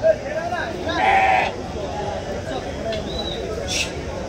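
Rams at a busy weekly sheep market let out a clear bleat near the start, with fainter bleats following, all over a constant crowd murmur and nearby voices.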